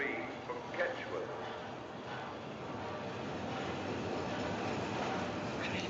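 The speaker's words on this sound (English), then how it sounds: "The train now arriving at platform 3" A train rolling into a station platform, a faint, steady rumble with soft clanks, with a voice speaking over it, in a 1940s film setting.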